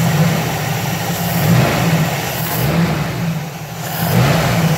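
Carbureted engine of a 1989 Jeep Wrangler on a cold start, revving lightly in slow swells over a steady idle, close and fairly loud throughout.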